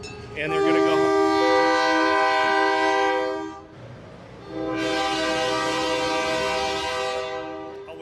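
A Lehigh Scenic Railway locomotive at the Jim Thorpe, Pennsylvania station sounds its horn in two long, loud blasts separated by a short gap, over a low idling engine rumble.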